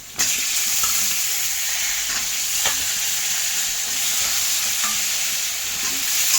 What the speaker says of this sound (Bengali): পটলগুলো ভালো করে যেহেতু ভাজতে হবে, তাই এই পটলগুলো আমি অল্প করে ভেজে নিচ্ছি